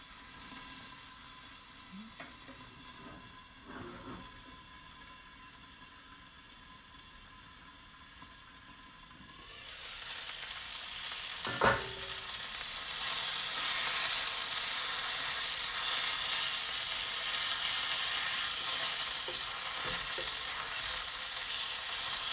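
Bacon frying in a pan starts quietly, then a broad, loud sizzle swells partway through and holds steady, with a few clinks from the pan.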